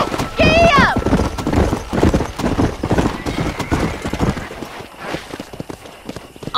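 Horse clip-clop hoofbeats and a whinny in the Red Dead Redemption video game, a neigh near the start, then steady galloping hooves running loud beneath speech.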